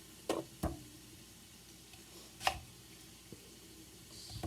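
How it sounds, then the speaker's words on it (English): A knife cuts the ends off an onion for chuck wagon beans with a few sharp, sparse chops on a board, two close together, then a louder one and faint taps. "Cut your ends off."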